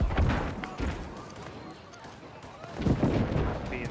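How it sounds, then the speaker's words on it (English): Artillery fire in the online war game Evenfall War, heavy booming blasts at the start and again near the end, with dense battlefield clatter in between and voices faintly present. "Heads up, you guys have artillery behind B and C."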